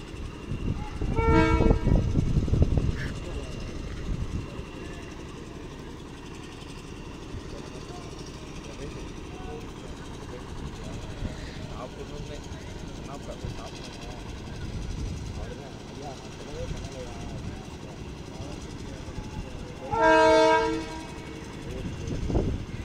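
A train on a trial run across the new Pamban Bridge rumbles steadily, with loud horn toots near the start and again near the end. Voices murmur in the background.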